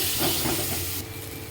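Spices with ground black pepper frying in a pan for Bengali doi katla, a steady close sizzling hiss that drops slightly in level partway through, with no talking.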